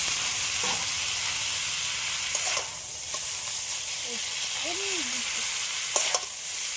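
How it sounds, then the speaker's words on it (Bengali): Chow mein noodles fry in oil in a wok, giving a continuous close sizzle with a few scattered scrapes and clicks from stirring. "এই তেলের মধ্যে এবার চাউমিনগুলো দিয়ে দেবো।"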